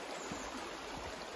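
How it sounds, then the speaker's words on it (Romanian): A mountain stream rushes steadily beside a trail, a broad, even hiss of flowing water, faint and continuous throughout the short moment. "Auzi aici apa vie, cum se mișcă."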